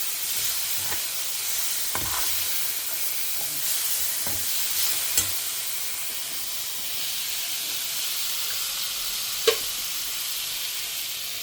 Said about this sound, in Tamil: கொஞ்சம் மூடி போட்டு வதக்குவோம்.